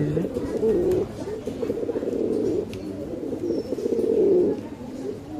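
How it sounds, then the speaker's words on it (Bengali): A pair of black-necked pigeons cooing close by, deep rolling coos in long repeated bursts with no talking. "কালো গলা কবুতর দেখেন কত সুন্দর করে ডাকতেছে কবুতর"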